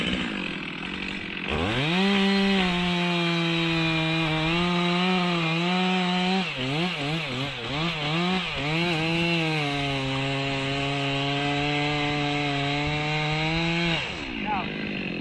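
A chainsaw cuts down through a log in a forest, leaving a stem hinge. The engine runs loud and close for about thirteen seconds, rising and dipping in pitch as the bar bites into the wood.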